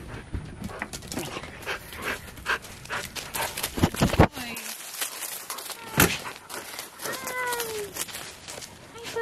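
Several puppies pant rapidly and excitedly up close, mixed with whimpers and yips, while a person talks and calls to them in an excited voice.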